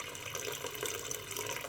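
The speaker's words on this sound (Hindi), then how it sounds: "तो फ्रेंड्स ये देखिए मैं इसमें थोड़ा सा पानी ऐड करूँगी" Water pouring steadily into a pot of daal mash (lentils) while cooking, a continuous close splashing stream with no talk.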